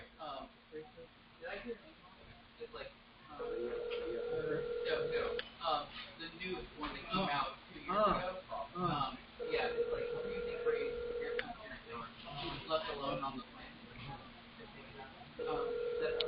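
Telephone call placed over a speakerphone, with repeated ringback tones in long regular bursts, roughly every six seconds, heard fairly clearly under a steady hum and background talk.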